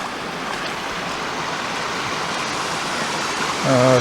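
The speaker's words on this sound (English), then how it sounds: "Oh, there's low waterfalls here." Water spilling over a small low waterfall on a creek gives a steady, broad rushing wash close by, slightly swelling toward the end with a brief tonal whine over it.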